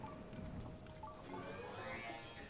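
Steady rain falls as a soft, even hiss in the video game Zelda Tears of the Kingdom, faint and continuous with no voices over it.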